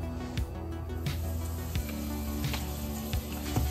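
Butter sizzling in a hot pan for a leftover steak sandwich, a steady crackling hiss broken by scattered sharp pops and spits, close and moderately loud.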